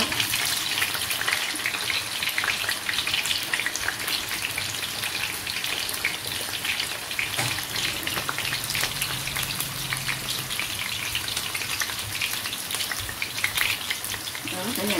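Oil sizzles and crackles continuously as sweet potatoes fry in a pan, a dense, steady hiss with scattered pops.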